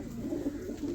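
A fancy pigeon kept by a fancier in Naugawan gives a brief, low, throaty coo with a couple of soft pulses, close and fairly quiet.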